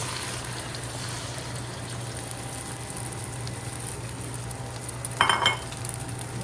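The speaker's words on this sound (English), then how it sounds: "Let's go in now with our whisked eggs. So I'm going to scramble the eggs here first." Whisked eggs scrambling in hot oil in a wok make a low, steady sizzle, with a brief clatter of a utensil against the pan near the end.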